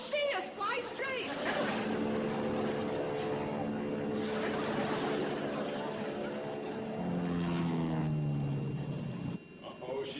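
A small airplane flies overhead, its steady engine drone running beneath almost continuous talk from several people.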